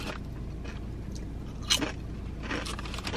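Crisp crunching of kettle-cooked potato chips being bitten and chewed close up, a few sharp crunches over soft mouth sounds.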